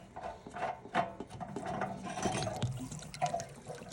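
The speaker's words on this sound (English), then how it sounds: "go ahead and drain your hot water heater tank" Water gushes and splashes steadily as a camper's hot water heater tank drains, a continuous trickling, gurgling flow close by with no voices.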